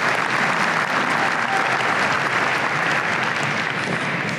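Dense, steady applause from a large crowd at a university commencement ceremony in Mānoa, Hawaii, sustained evenly throughout without any speech over it.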